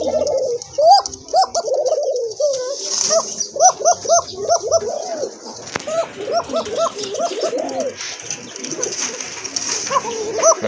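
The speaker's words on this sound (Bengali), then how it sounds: "এটা হচ্ছে আপনার অ্যারাবিয়ান কোকা কবুতর, খুব ভালো ডাকে, একদম চিকন গলার কবুতর" A pair of Arabian coca pigeons, thin-voiced birds with feathered feet, coo repeatedly in rhythmic, rolling bursts close up, with short pauses between phrases and faint background noise.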